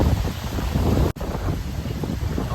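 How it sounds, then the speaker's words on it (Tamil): Strong cyclone wind roars continuously during red-alert flood conditions in Chennai, a loud, dense rushing with gusty buffeting against the microphone and one sudden brief dropout partway through. "அவ்வளோ கோர்ஸாக வருது பாருங்க காற்று."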